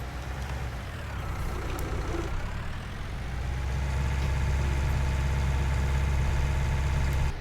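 An old tractor engine runs steadily with a deep, low rumble that swells louder about halfway through and then holds a constant drone, with no voices.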